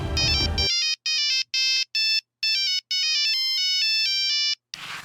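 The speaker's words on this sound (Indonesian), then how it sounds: "Telepon." A telephone ringtone plays loud and close in a repeating electronic melody of short bursts with brief gaps, after a burst of noisy sound at the start and before a short rush of noise at the end.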